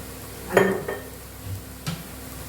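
Sautéing in oil with turmeric and pink salt until browned: a soft sizzle with a couple of clinking stirs of a utensil against the pan, close and moderately loud.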